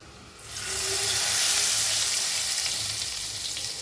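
Hot oil tempering with Kashmiri chilli and ginger slivers poured over chickpea chhole curry, bursting into a loud, steady sizzle that swells after a brief pause and holds close and continuous with no talk.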